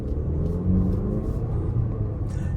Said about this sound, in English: Do a little acceleration.